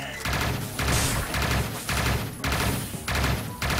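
Bursts of rapid automatic gunfire from the player's weapon in the top-down shooter video game Neon Chrome, loud and close, coming in repeated volleys of about half a second with short gaps between them.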